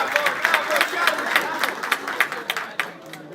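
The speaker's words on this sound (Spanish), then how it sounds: "un aplauso para ella, por favor" Audience clapping for beauty pageant contestants, a moderate patter of individual claps with crowd murmur underneath, thinning toward the end.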